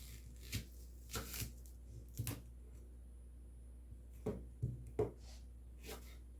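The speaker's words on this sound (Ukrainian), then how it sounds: "Цибулю нарізаю півкільцями." Several crisp knife chops on a board as an onion is sliced into half rings, spaced irregularly with short pauses, close and fairly quiet.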